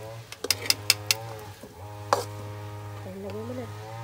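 Eggs are stirred with potatoes in a pan: a rapid run of metallic scrapes and clinks of a utensil, a lone sharper clank, then a voice speaking over a steady low hum.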